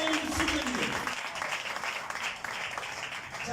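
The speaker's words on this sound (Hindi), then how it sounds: "यीशु के लिए जोरदार तालियां" A church congregation claps together in a sustained round of applause, moderately loud and continuous, with a low voice briefly audible at the start beneath the clapping.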